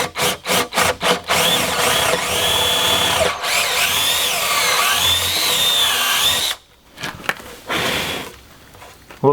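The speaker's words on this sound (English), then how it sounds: "I'm going to try and use a drill with a 1/2 inch bit on it." A power drill fitted with a half-inch bit bores into concrete, starting with several short revving bursts, then a sustained grinding whine for several seconds, followed by a pause and a few more short bursts.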